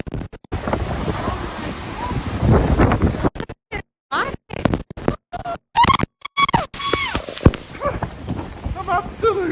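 Storm Agnes surf and gusting wind batter the Blackpool seafront at high tide, a loud roar of crashing waves and buffeting microphone wind, broken by shouting voices and gaps as the wind cuts in and out.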